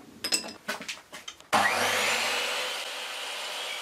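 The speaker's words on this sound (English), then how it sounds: "And I just trim this up using the miter saw." A miter saw trims the curved wooden front of a box: several short clicks and knocks, then the blade whines up loudly and cuts in one continuous roar that slowly fades.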